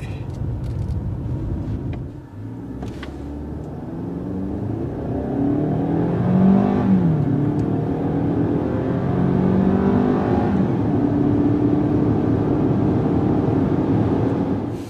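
A 2013 Kia Sportage SX with a turbo engine accelerating hard from 0 to 60 mph, heard from inside as rising engine revs climb, break at gear changes and climb again, loud and continuous with no talking.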